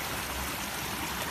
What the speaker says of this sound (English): there's obviously water leaking from somewhere above, because I can see it running down